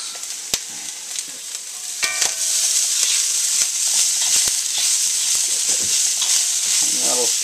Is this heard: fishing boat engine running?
no